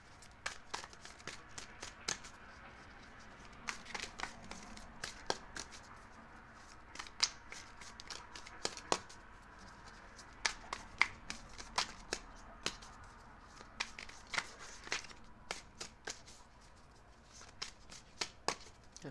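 Tarot cards being shuffled by hand, a soft, close series of irregular riffling snaps and flicks, some in quick clusters, against a quiet background.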